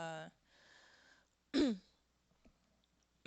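A single short, harsh throat-clearing burst, preceded by a brief voiced sound and faint breathy noise, then near silence.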